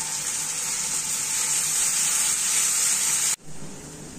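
Spice paste hits hot oil over fried onions for a Rani fish curry, with a loud, steady hissing sizzle that cuts off abruptly near the end and then briefly resumes more quietly.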